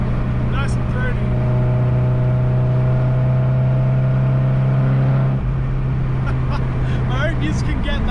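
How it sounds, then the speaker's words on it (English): A car engine held at full throttle with a throaty exhaust, a loud steady drone that carries on for several seconds, shifts pitch slightly near the end and stays up close. "Full throttle just sounds good. It's nice and throaty."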